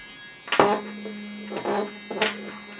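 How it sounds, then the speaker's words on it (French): Low, steady buzzing from a No.1 S3 smartwatch's vibration motor under test, humming continuously while someone talks over it in bursts. "Donc quand je vais dans vibration, je peux tester la vibration."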